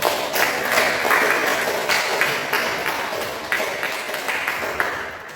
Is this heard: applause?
yes